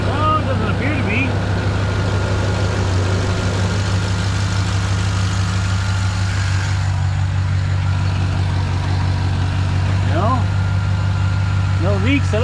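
A 2010–2017 GM flex-fuel truck with a 4.8L/5.3L V8 idles steadily right after fuel injector replacement, giving a constant low, even hum close by. People talk over it now and then.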